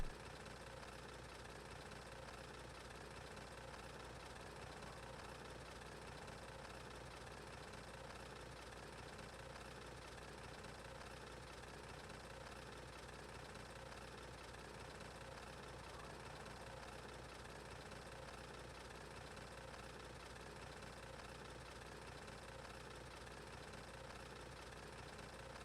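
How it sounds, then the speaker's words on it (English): An engine runs at idle for the whole stretch, a faint, steady low rumble with a slight knocking texture and no talk. "You can enjoy the sound of an engine running."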